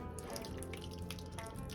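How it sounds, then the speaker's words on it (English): A sauce containing sweet peas is poured over a turkey tetrazzini casserole, making a continuous soft, wet splashing and dripping sound with no talk. "now I'm gonna pour it over the top"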